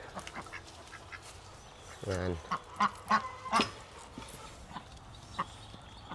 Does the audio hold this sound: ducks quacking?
yes